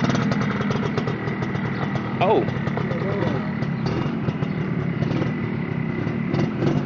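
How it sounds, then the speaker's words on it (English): A motorcycle engine idles with a steady mid-pitched rumble close by in a town, gently revving as someone speaks briefly over it. "about to take me around the block on the motorcycle"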